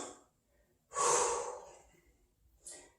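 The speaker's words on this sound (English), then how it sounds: "And exhale." A slow, audible exhale through the nose and mouth during a beginner yoga joint-mobility routine, close and soft, fading away, then a short breath at the end in a quiet room.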